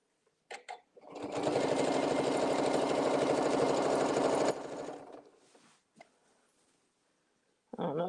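A sewing machine stitches a quilted 4-patch table mat in one loud, close burst of rapid whirring lasting about three and a half seconds, then slows and stops, with a few small clicks and handling noises before and after.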